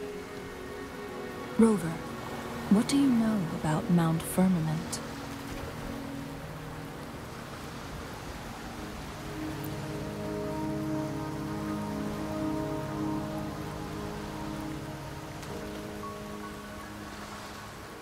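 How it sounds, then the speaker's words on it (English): Rain falls steadily in the video game Wuthering Waves, a soft continuous patter beneath spoken dialogue and brief chimes early on, holding at low level to the end. "the rain won't last much longer"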